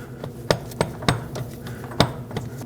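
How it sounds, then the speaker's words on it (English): Replacement CV axle for a 2009-2015 Honda Pilot, rear, slid into place against the differential splines: a handful of sharp metallic knocks and clanks spaced irregularly, close up, with no talking. "Take your new axle, slide it into position, line it up with the splines on the differential"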